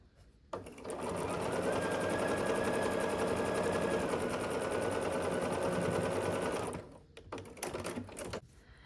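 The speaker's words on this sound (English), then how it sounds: "take the small flag and sew it onto the small sail" A sewing machine stitches quilt block fabric in one steady, unbroken run of rapid mechanical chatter lasting several seconds, fairly close, then stops, leaving a few light clicks and handling sounds.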